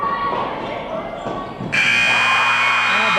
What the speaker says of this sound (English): Buzzer beater, how about that?